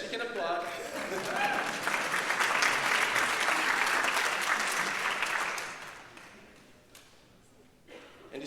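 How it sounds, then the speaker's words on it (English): An audience at a morning education fundraiser breakfast claps warmly, the applause building, holding steady, then thinning out to scattered claps near the end. "Yes, you can applaud."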